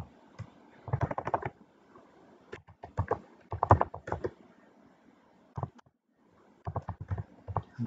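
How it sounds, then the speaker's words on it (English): Bursts of clicky keystrokes on a computer keyboard, typed into a command prompt, come in quick clusters separated by short pauses, close and fairly crisp in a quiet room. "go to the command prompt, type the Java"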